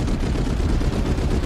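Dense, continuous rattle of Spitfire machine-gun fire aimed at a V1 flying bomb, recorded on old archival film: a loud, unbroken stream of rapid bursts with a rough, low rumble and no pauses.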